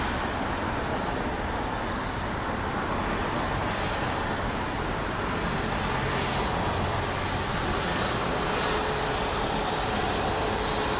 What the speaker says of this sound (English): here comes Cayman Airways 737 MAX 8